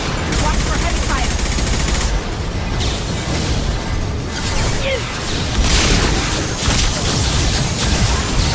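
Heavy gunfire in the Mass Effect 2 Shadow Broker mission: dense, continuous bursts of automatic weapon fire and booms, loud and close, with brief lulls, and speech present.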